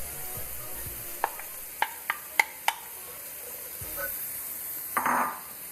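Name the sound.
onion being added to sizzling garlic in a pan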